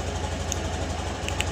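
A Honda Beat scooter engine idles nearby with a steady, low rhythmic throb that stays constant throughout.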